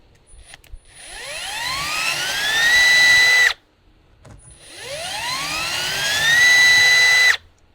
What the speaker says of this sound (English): Have to be careful not to drill too far through because I don't want to hit my fridge.